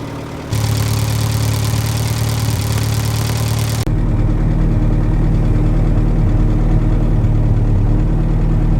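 A 1954 Renault 4CV (UK-spec Renault 750) idles steadily while warming up, a close, low, even engine drone that stays loud throughout with a slight shift in tone partway through.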